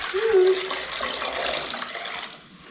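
Tap water runs into a pot for heating a canning syrup of water and sugar for fresh peaches. The stream is steady and fairly close, with a voice speaking over it before the flow fades toward the end.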